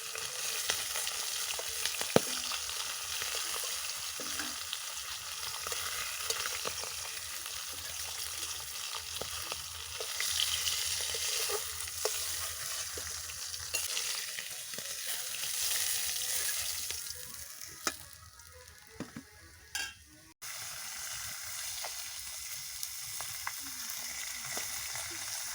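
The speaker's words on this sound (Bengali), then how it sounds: "মাছটা একটু ভালো করে ভেজে নেব।" Pangas fish fries in hot oil with a steady, crackling sizzle that runs throughout, softening near the end before the hiss resumes at a slightly lower level.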